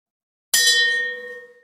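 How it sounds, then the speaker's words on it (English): A single bright bell strike rings out after a moment of silence, its metallic tone sustaining and slowly fading. "Ring the fucking bell."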